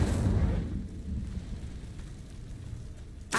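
Incendio fire spell cast in the Hogwarts Legacy video game: a loud, broad whooshing burst of flame that swells at once and then fades into a rumbling tail, with a sharp new flare at the very end.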